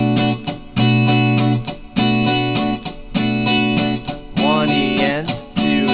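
Funk rhythm guitar strummed in steady sixteenth notes with muted strums, a choppy distorted pattern of ringing chords broken by percussive dead scratches, close and loud, bending into a sliding lick near the end.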